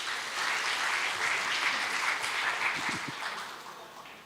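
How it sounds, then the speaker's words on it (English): Steady audience applause fills a stage event as a presenter from Airlangga University is welcomed at Falling Walls Lab Indonesia 2024, dense clapping holding level for about four seconds before tapering slightly. "please give her a big round of applause"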